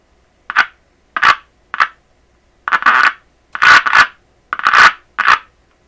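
Short bursts of crackly, hissing radio static and garbled sound from a repaired Zenith Royal 46 transistor radio come in uneven spurts, separated by brief silences, fairly loud and close.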